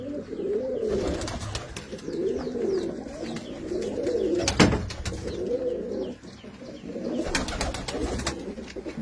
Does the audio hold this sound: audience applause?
no